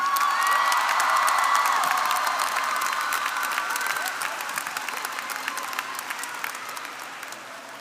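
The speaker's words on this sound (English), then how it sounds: "Please give me a round of applause" A large crowd at a 2019 high school graduation ceremony applauds steadily with cheers and whoops for a graduating senior, loud at first and gradually tapering off over several seconds.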